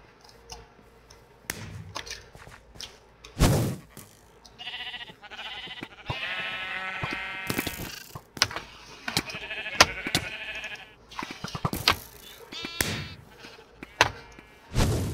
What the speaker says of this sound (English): Okay, we have one sheep. We have a sheep.